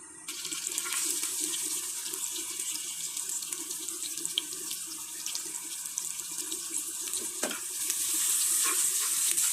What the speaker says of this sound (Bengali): এখন আমি পেঁয়াজগুলো লাল লাল করে ভেজে নেব।